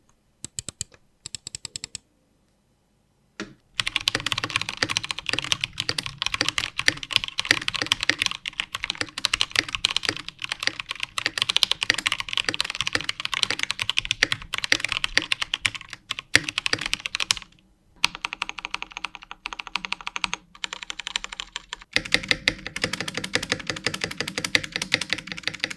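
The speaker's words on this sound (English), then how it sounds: "Now a sound test of the GK68XS with Gateron brown switches." Continuous typing on an EPOMAKER GK68XS keyboard with Gateron brown switches, a dense, fast patter of key presses close up, with a couple of brief pauses and no talk.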